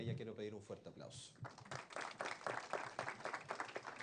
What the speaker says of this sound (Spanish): para ella quiero pedir un fuerte aplauso